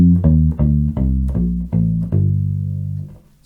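Bass ukulele plucking a descending scale, about seven notes at a steady even pace, each low tone ringing into the next, with no voices.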